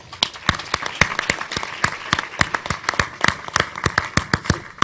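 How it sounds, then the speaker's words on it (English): An audience at a speaking event gives a round of applause, sharp individual claps standing out through a steady patter of many hands, loud and continuous throughout. "So let's give her a round of applause."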